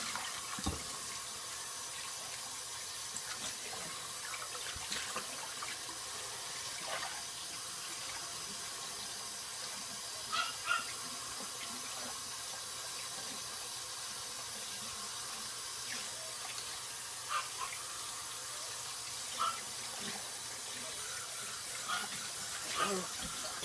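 Tap water runs steadily into a kitchen sink while a raw whole chicken is rinsed under it. The flow is quiet and continuous, with faint scattered splashes and clinks throughout.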